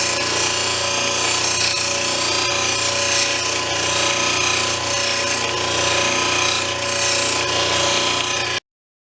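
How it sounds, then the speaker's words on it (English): A 280 grit softback wheel grinds a stone cabochon, making a steady, loud, continuous whirring rasp with a constant motor hum and no pauses or voices. "The 280 grit softback wheel will remove small flats left by the hard metal 220 grit wheel"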